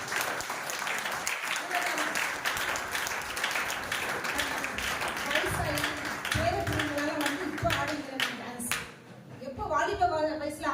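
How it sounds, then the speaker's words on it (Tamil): Congregation at a Women's Sunday service in a church clapping steadily and enthusiastically, a dense sustained wash of hands close by, mixed with voices and a little music over roughly ten seconds. "எங்க சகோதரிமார்களே, எங்களுக்காக ஒரு உற்சாகமா கைத்தட்ட மாட்டீங்களா?"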